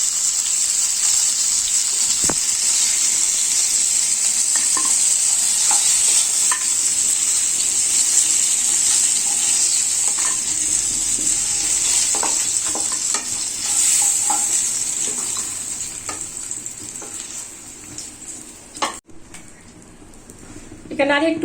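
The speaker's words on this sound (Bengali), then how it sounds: "আমি একটু ভালো করে কড়া করে ভেজে নিচ্ছি।" Rohu fish being fried crisp in hot oil, a loud continuous close sizzle with scraping stirs and clinks of a utensil, fading lower near the end before a sharp knock, with a voice talking over it.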